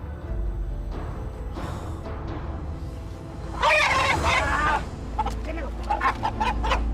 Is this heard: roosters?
yes